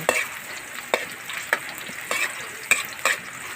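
Onion frying in a pan for tuna adobo, a steady low sizzle broken by repeated sharp scrapes and taps of a spatula stirring, close and fairly loud with no talking.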